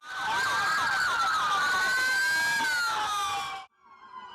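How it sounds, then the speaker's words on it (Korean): Police car sirens wail in a loud, continuous rising and falling tone as many cruisers chase a bus through a city at night, cutting off abruptly to quiet street noise. "경찰차 10여 대가 사이렌을 울리며 그 뒤를"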